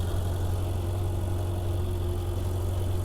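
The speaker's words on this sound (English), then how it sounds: "such an amazing combination of induction and exhaust sounds simultaneously. It sounds so good" A 2016 Ferrari 488 GTB engine idles steadily with a deep, even rumble and constant low hum throughout, no revving, fairly close.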